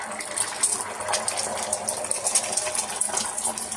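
Beaten egg poured into a hot frying pan for an omelette, giving a continuous bright sizzling hiss with faint crackles, fairly close and steady, with no talking.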